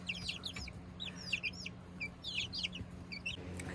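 Young chicks in a cold shop chirp in quick high peeping bursts, several birds calling over a steady low hum, fairly close and continuous.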